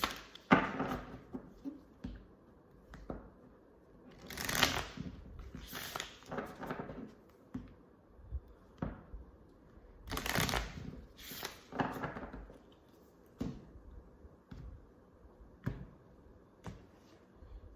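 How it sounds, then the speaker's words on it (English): Tarot cards being shuffled in short, riffling bursts and soft slaps, close by and intermittent, with quiet pauses between the flurries. "Let's keep shuffling."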